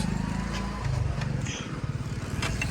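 A model 855 tractor engine runs at a steady low idle, its deep rumbling throb close and continuous throughout.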